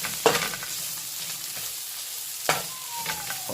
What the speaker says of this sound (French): Vous parsemez 2 cuillères de gingembre sous l'oignon. Et vous faites revenir bien comme ceci.